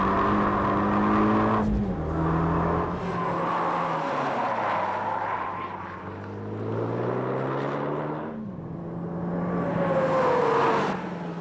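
A Renault Megane R26.R driven hard through corners, its engine droning loudly and steadily from inside the car as the pitch falls and climbs again with each bend and gear change, no speech over it.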